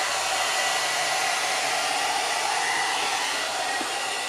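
A hair brush dryer blows on its low heat setting, a close, steady airy whoosh with a constant motor hum and no voices.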